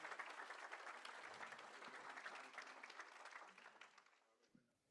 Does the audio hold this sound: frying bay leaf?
no